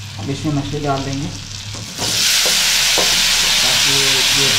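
Fish frying in hot oil while being stirred, a steady loud sizzle that rises sharply partway through, with scraping stir strokes and faint talk in the background.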